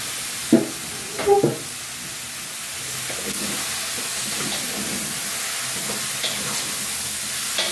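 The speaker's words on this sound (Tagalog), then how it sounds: "Hanggang sa mag-brown po at lumabas yung sarili niyang mantika." Pork humba sizzles in its own rendered fat in a pan as it is stirred: a steady hiss with a few utensil clanks early on.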